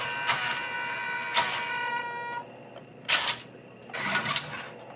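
A WPL B-1 1/16-scale 4WD military RC truck's small electric motor whines steadily up close, then rises in short, sharp throttle bursts with brief pauses between them.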